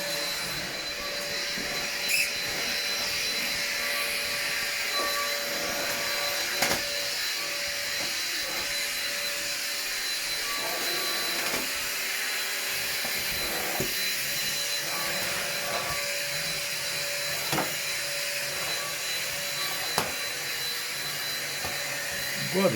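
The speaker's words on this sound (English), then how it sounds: "This vacuum cleaner that I bought here, you can see it from Aldi." An Ambiano vacuum cleaner from Aldi runs with a steady, loud whirring roar throughout, with occasional clicks and bumps over the constant motor drone.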